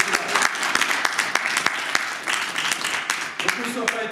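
A church congregation applauding and cheering the Lord, a dense burst of clapping with sharp hand claps throughout, close and lively, with voices calling out over it.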